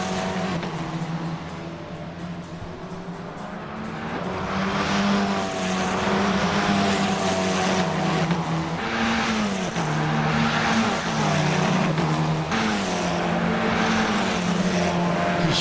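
Open-wheel F4 race cars in a sim racing game roar down the Laguna Seca straight, a loud continuous engine drone with rising and shifting pitch as the cars run close together in the draft.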